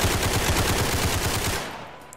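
Rapid automatic gunfire in the Roblox game Criminality, a fast rattling burst that runs for over a second before cutting off into quieter background noise.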